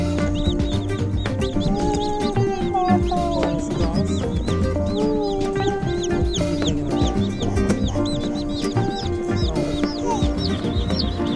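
Cornish cross meat chickens cluck and chatter constantly up close, many birds overlapping in a busy, loud flock sound.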